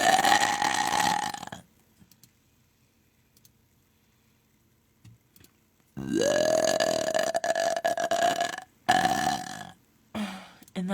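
Long, loud, drawn-out burps from a burp race, one sustained belch followed by silence, then a second prolonged burp with a few shorter bursts after it, close and with no talk.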